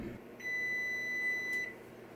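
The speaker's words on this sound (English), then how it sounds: "the timer has gone off" Oven timer going off while banana bread bakes, a single sustained electronic beep lasting over a second, clear and steady against faint kitchen background, no speech.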